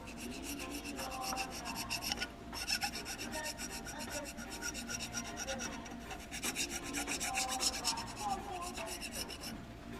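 A carbide scraper scrapes oil residue off the aluminum oil filter housing of a 2002 Ford Mustang GT, making close, continuous rasping strokes with brief pauses between passes.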